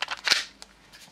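A magazine is pushed into a WE Bulldog PX4 Storm sub-compact airsoft pistol, giving a short plasticky rattle and then a sharp click as it seats, followed by a fainter small click.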